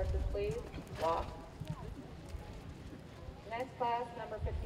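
Horses walk in a 4-H western class arena at a county fair, with soft, faint hoof clip-clops under voices calling out and chatting.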